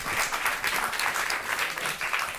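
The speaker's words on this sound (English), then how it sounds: "Round of applause." An audience at a closing session claps steadily, a dense, even patter of many hands close by and sustained throughout without pause.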